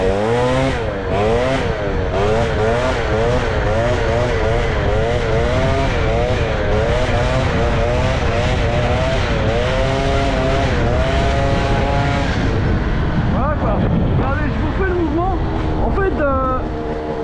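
Pit bike engine with a boosted cylinder head revving hard as it accelerates for a wheelie, rising and falling pitch sweeps loud and close for the full stretch, with a voice talking over it.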